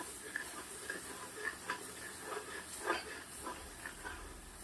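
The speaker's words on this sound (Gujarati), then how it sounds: "બે મિનિટ જેવું ફેરવ્યું છે." Walnut halwa being stirred in milk in a pan, a soft continuous simmering hiss with light, irregular scrapes and taps of the spoon, close and fairly quiet, with no speech.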